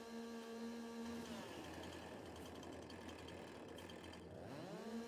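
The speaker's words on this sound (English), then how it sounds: "Cutting trees," A chainsaw cuts trees in the Farming Simulator 22 video game, its engine droning and rising and falling in pitch as it works, steady and fairly quiet throughout with no talking.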